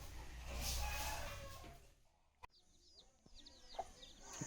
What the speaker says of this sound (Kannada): ಕೋಳಿ ಮರಿ ಹಾಕಿದೆ.